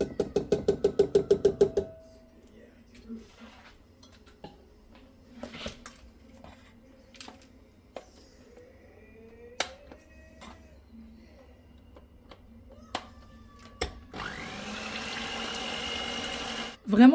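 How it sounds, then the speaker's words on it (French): Twenty-five centilitres of cream whisked in a bowl: a rapid, rhythmic burst of beating at the start, then quiet scattered clinks and taps, and finally a steady, loud whirring whisk near the end. "on va venir fouetter la crème"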